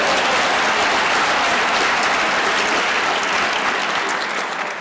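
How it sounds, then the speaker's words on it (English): Audience at a governor's State of the State address in Queens applauds loudly and steadily, a dense wash of clapping that stays strong throughout and eases slightly at the very end. "Give a big round of applause, President Mello."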